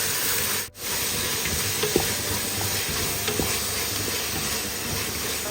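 Tomatoes go into a frying pan already holding chili and ginger-garlic paste for a beans pulao, giving a steady, close sizzle and hiss with a brief stir partway through, no talk.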